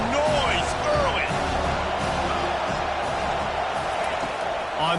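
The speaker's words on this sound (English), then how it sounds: "This crowd bringing the energy and noise early." A packed Penn State stadium crowd in the College Football 25 video game gives a constant, loud roar with occasional whoops and whistles. Game commentary plays along with it.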